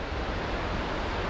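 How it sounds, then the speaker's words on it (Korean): Steady broadband rush of water from Sisnel Falls along the Timberline Trail near Mount Hood, a dense, continuous roar with no breaks, close and fairly loud, heard alone. "시스널 폭포"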